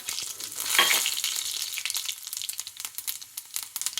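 Mustard and cumin seeds tempering in hot oil in a kadai, a dense, loud crackling sizzle that swells near the start and then keeps going with sharp popping spatters.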